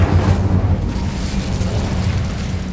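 An Incendio fire spell bursts in Hogwarts Legacy inside a spider-infested tomb, a loud, close whooshing blast of flame that roars at once and then rumbles on with a steady crackling burn.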